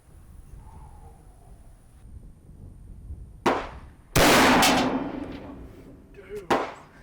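A big heavy-barrel rifle with a plain stock fires outdoors: one loud, sharp report with a ringing tail, followed by a couple of lighter impact cracks nearby.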